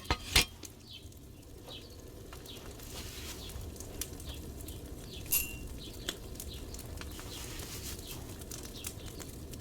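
Mint is ground with a mortar in a video game alchemy recipe, giving faint, evenly repeated scraping and clinking strokes over a quiet background, with a sharper knock near the start.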